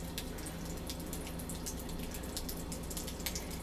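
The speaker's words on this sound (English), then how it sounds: "I'm just gonna pour enough to cover this" Rice vinegar poured over pea salad ingredients already dressed with soy sauce and sesame oil gives a soft, steady trickle with faint drips that holds evenly throughout, with no talking.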